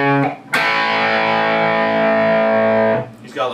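A single heavily distorted electric guitar three-note chord from a song rings out and sustains for a couple of seconds, then cuts off abruptly.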